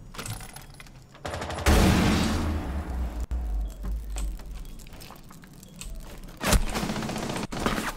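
Gunfire in Rainbow Six Siege: a loud, close burst of shots hits early, then the action dies down to quieter shuffling, and a second sharp burst comes near the end.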